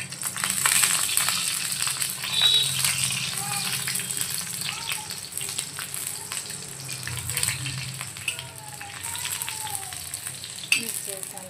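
Green chillies roasting in a little oil in a pan while making Kolhapuri chicken masala, giving a steady soft sizzle and crackle throughout, with quieter voice sounds in the background.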